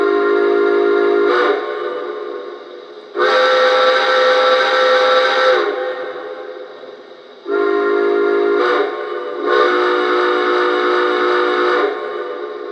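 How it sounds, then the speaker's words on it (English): Lionel TMCC GS-2 model steam locomotive whistle blowing in two long multi-tone chime blasts, each rising sharply then tapering, loud and close with no talking. "let's start with the whistle. And might I add, I love the whistle in this thing."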